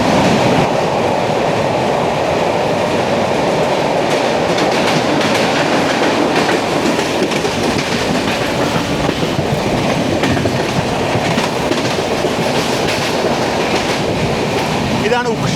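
The 12224 Duronto Express runs from Kozhikode to Mumbai Lokmanya Tilak Terminus on the Konkan Railway, heard from inside an AC 3-tier coach. A loud, steady rumble carries rhythmic clickety-clack wheel beats throughout.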